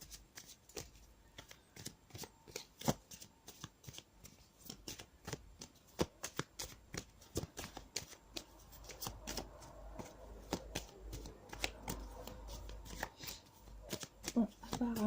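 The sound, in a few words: shuffling and drawing Tzigane oracle cards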